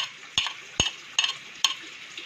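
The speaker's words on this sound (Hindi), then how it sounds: "ये प्याज अदरक लहसुन का पेस्ट बना रहा हमने, ठीक है। इसको हम इसके अंदर डाल देंगे।" Onion, ginger and garlic paste going into a pan for dhaba-style chana daal: four sharp, evenly spaced clatters of a spoon against the pan over a soft background sizzle, with no talking.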